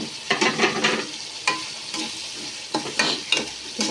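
Spices and tomatoes fry in a pan with a soft continuous sizzle, broken by repeated scraping strokes of a spoon stirring the mixture.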